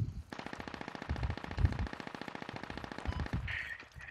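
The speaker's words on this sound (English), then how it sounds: "There's an MG." Sustained rapid machine gun fire from an MG in the military shooter Squad, a steady burst of evenly spaced shots lasting several seconds, fairly close, ending in a brief metallic ring.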